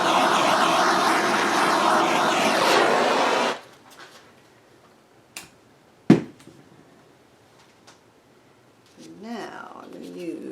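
A heat gun blows a loud, steady roar of air over an acrylic pour painting for about three and a half seconds, then cuts off abruptly. A few quiet knocks and a brief spoken voice follow.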